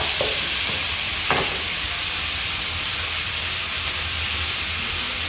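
Chopped vegetables and tomato frying in a pan for upma, a steady close sizzling hiss with a couple of brief utensil taps early on, continuing alone without talk.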